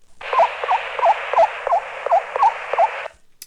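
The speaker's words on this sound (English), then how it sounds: "She calls the ducklings away from the nest with this call as well, or a variation of this call." A female duck gives an assembly call, a series of about eight evenly spaced, raspy calls in steady rhythm, close and clear, then stops.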